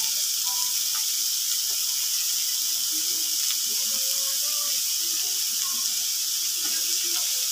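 Onions and a few green chillies fry in a pan for a fish curry, giving a steady broad hiss and sizzle with no talk over it.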